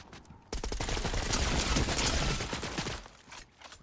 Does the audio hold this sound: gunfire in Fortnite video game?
yes